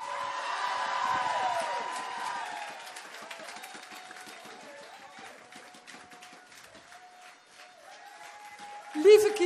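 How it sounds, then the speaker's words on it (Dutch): A crowd at an outdoor homecoming celebration claps and cheers for a few seconds. The applause then fades under a steady tone and talk. "Kika, geef ze dan vast een applaus."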